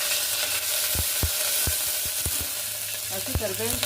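Fresh curry leaves crackle and sizzle in hot oil with garlic for a black-eyed pea sambar, a steady frying hiss broken by several sharp pops and spits.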